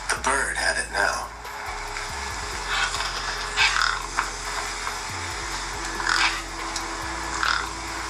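Harsh crow caws repeat in a mobile video game, mixed over a steady mechanical drone and low game music, with several bursts of cawing spread across the scene.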